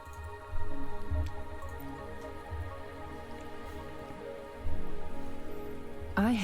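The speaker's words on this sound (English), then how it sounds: "Don't worry, the rain won't last much longer." Steady rain falls across Mount Firmament in the video game Wuthering Waves, a continuous patter of drops under a low ambient bed, with a soft swell midway and a brief bright chime near the end.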